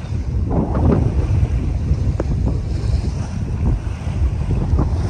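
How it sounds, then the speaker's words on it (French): Loud gusting wind of about 18 knots buffets the microphone over the rush of waves and water against a sailboat moving at about 6 knots in Greece. "Là on a environ 18 nœuds de vent avec une jolie mer."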